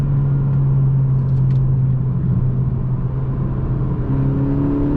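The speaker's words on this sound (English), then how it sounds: "I think it makes the car sound absolutely amazing though." A tuned 2020 Honda Civic Si running a 19.5 PSI boost tune gives off a loud, close, steady engine drone and rumble with a low hum, holding fairly constant without sharp revs.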